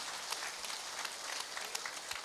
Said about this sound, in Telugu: ఆ టీం మొత్తానికి కూడా గట్టిగా చప్పట్లు తెలియజేద్దాం.